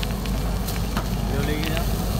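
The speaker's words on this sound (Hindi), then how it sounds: "सिज़लर बहुत ही अच्छे अंदाज से यहाँ पे बन रहा है" Sizzler platter hissing and crackling at a busy wedding hall food stall in Mumbra, a steady loud sizzle running throughout with crowd noise and voices around it.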